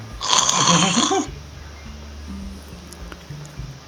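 A voice imitates a blissful snore for a character in a tabletop D&D game, one drawn-out, loud breathy snort-snore lasting about a second, then fading into quiet room tone.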